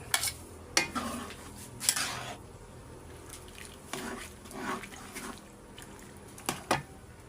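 Spicy bagoong with pork, seasoned with long chilies, chili powder and siling labuyo, cooks in a pan with a soft steady sizzle, broken by several sharp stirring scrapes and clinks of a utensil against the pan.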